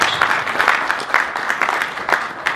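Sustained audience applause at a talk on radiotherapy in hospitals, a dense, even patter of many hands clapping at close range with no speech over it.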